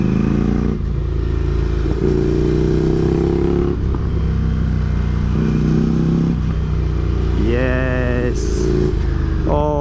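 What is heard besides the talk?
motorcycle riding through corners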